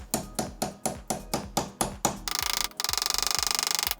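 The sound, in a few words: hammering a pin into a transmission bolt hole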